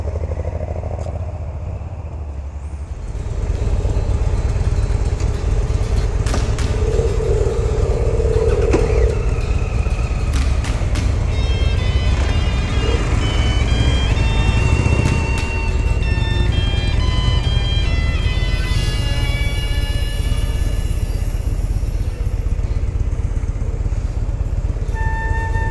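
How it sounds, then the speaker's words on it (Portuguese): Harley-Davidson motorcycles, including a 2011 Dyna Super Glide, fire up into a loud, continuous low rumble, then rev and pull away. The group of bikes sounds close and steady throughout. "É ligar as motos e sair."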